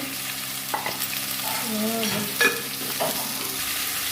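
Taro frying in a pan, a constant close sizzle and crackle with a few brief utensil clinks and scrapes along the way.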